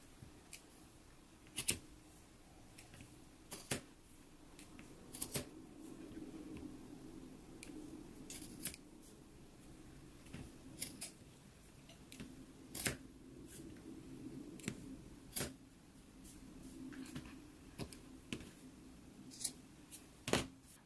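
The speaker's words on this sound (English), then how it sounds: "we can go ahead and cut it into 8 pieces that are 3 inches long" Scissors snip through a sewn fabric carrier strip, cutting it into short pieces: sharp, crisp cuts spaced a second or two apart, close and distinct over a quiet room, with light rustling of cloth between snips.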